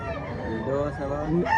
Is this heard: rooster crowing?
yes